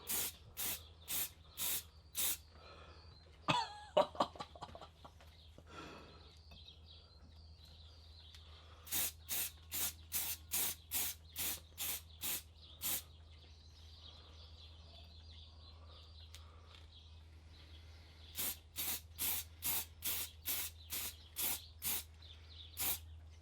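Short repeated bursts of spray paint hiss onto restored Subaru Impreza CV axles in a home workshop. The bursts come in quick rhythmic clusters, loud and close, over a steady low hum, with a brief clatter near the start.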